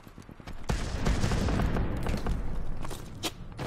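Heavy gunfire in a Call of Duty game, a loud dense burst of shots and explosions that rolls on for a few seconds.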